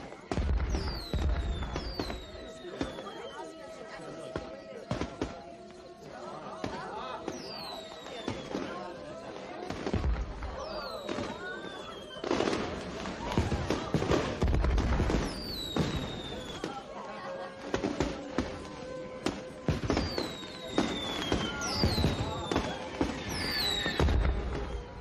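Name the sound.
fireworks display going off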